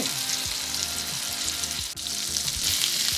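Half a ribeye steak sizzles and fries steadily in a pan for a homemade keto burger, a dense continuous crackle close by, with faint low clinks of the pan beneath and no talk.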